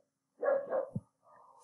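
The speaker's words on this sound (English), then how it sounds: "My dogs are barking." Dogs bark in a short burst of two or three close, loud barks, then a quieter whine or yelp trails off after a brief pause.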